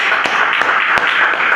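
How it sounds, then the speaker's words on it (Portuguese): A church congregation claps together in a steady, brisk rhythm, the dense hand claps sounding close and full for a brief stretch with no talking. "E vamos aplaudir bem forte o nosso Senhor"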